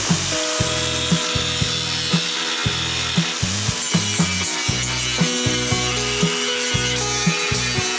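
Angle grinder cutting through spot welds on a 1957 Porsche 356 body panel during restoration, a close, loud grinding whine that rises and drops in pitch in steady repeated passes with a gritty metallic hiss.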